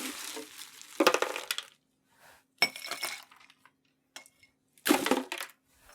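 Ice cubes clink and rattle into cocktail mixing glasses in a few separate bursts, with brief quiet gaps and small glassy taps between pours.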